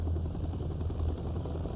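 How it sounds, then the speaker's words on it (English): A Soviet Hind helicopter in Metal Gear Solid 3 drones steadily with a low rotor throb and engine hum, continuous and fairly close throughout, with no voices. "Oh, the Hind is back. The Soviet helicopter."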